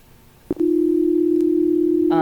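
A single pure synthesized tone from the Philo-O-Music Python app sounds after a small click and holds steadily, with a second brighter tone joining right at the end to form an interval, under a faint background hiss.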